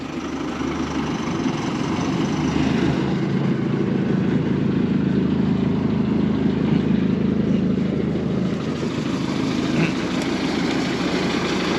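A new gas-powered wood chipper's engine running at a steady, loud rumble close by, a continuous droning hum that holds through the whole stretch without talk.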